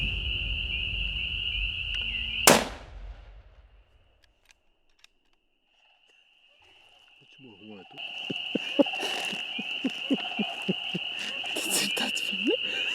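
A single loud rifle shot cracks out during an evening bear hunt, then rings away into a quiet outdoor night with steady insect or frog chirping. Low voices start talking a few seconds later.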